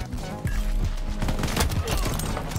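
Shotgun fire in the online shooter Shatterline, with quick loud blasts packed closely together under a dense layer of other game noise and talk.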